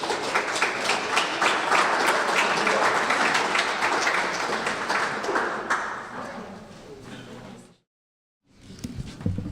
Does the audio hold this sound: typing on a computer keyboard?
no